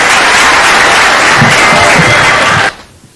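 Audience applause for poet Abrar Kashif at a poetry gathering, loud dense clapping from a crowd that cuts off abruptly near the end, leaving near silence.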